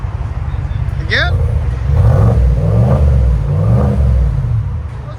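A 2024 Cadillac Escalade 600 with a 6.2-liter V8 and a muffler delete, revving up from idle into a deep, loud, close exhaust roar that rises and swells over several seconds.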